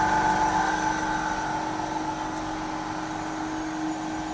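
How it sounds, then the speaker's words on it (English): A 30 horsepower diesel compressor on a tube ice machine runs with a steady mechanical hum and a constant tonal drone, close and unbroken throughout. "This is the compressor, 30 horsepower, diesel, and this is the model."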